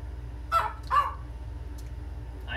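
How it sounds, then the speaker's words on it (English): A small dog at home gives two short, sharp yaps close by, separated by a brief pause, over a low steady room hum. "I know, little dog. I know."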